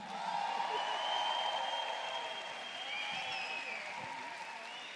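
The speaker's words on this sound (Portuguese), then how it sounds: "Eu quero que vocês acolham com uma salva de palmas o nosso excelentíssimo senhor ministro, Onyx Lorenzoni." Crowd applause welcoming a government minister at a public event, a sustained wash of clapping with a shrill whistle or cheer running over it, fairly even in level for several seconds.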